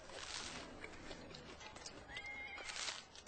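A horse whinnies loudly over a busy background of hoofbeats and bustle in a Narnia film scene, its neigh rising and falling near the end.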